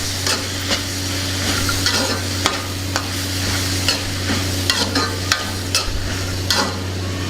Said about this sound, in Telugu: ఇందులో కొద్దిగా కారం వేసుకుందాం ఒకసారి బాగా కలుపుకుందాం